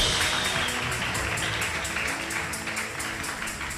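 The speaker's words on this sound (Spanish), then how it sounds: "Un aplauso fuerte al Señor Jesús." A church congregation breaks into loud, sustained applause, a dense wash of many hands clapping that fills the hall steadily from start to finish.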